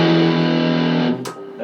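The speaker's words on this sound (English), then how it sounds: "Now let's go back to the distortion, but on the neck pickup" Electric guitar with distortion played on the neck pickup through a Marshall MG15CFX amp, a loud sustained chord ringing steadily for about a second before being cut off with a brief scratchy transient and fading.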